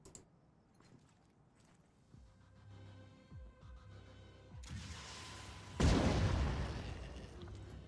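A single heavy gunshot in the tactical game Phoenix Point lands as a loud, booming blast that rolls out into a long decaying rumble, preceded by quieter clicks and mechanical shuffling as the shot is lined up.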